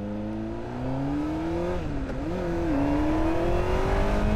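Motorcycle engine revving while riding, a close, steady motor drone whose pitch climbs, dips briefly and wavers mid-way, then rises again as throttle opens, over rushing wind noise.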